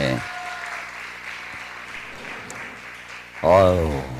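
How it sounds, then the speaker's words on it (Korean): A church congregation at a Friday night vigil service in Jeonju claps to welcome a deaconess coming up to give her testimony; a steady wash of applause runs for about three seconds before a voice begins speaking. "우리 한영호 권사님 나오실 때 힘차게 박수로 좀 이렇게 맞이하겠습니다"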